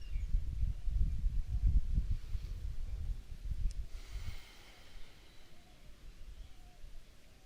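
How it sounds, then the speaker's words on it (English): A slow, deep breath drawn in and let out during a calming yoga session, soft and close, with breathy low rustle swelling for several seconds then fading into quiet room tone. "Take one more nice deep breath here."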